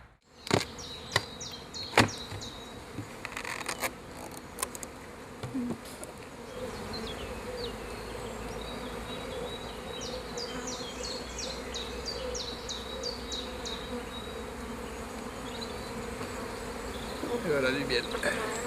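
Honeybees buzz steadily around a beekeeper's hives, a continuous close droning swarm with occasional sharp knocks and clicks early on, and faint birdsong overhead.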